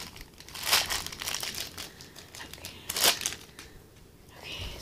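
Cardboard packaging of a SNES Classic box is torn apart up close, with crinkly ripping bursts and rustling between louder tears.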